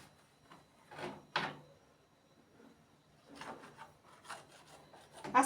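Knife cutting chapati dough into thin slices on a board: a few soft, rasping scrapes and muffled cuts come in short bursts with quiet gaps between them.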